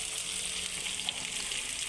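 Pieces of rohu fish and potato sizzle and crackle steadily in hot oil in a pan while a Bengali fish curry is being cooked, a dense close frying hiss with no talking.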